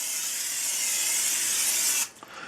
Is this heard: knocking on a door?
no